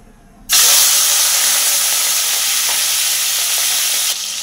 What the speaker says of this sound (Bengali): প্রথমে আমি চিংড়ি মাছগুলো এই তেলের মধ্যে দিয়ে হালকা করে ভেজে নেব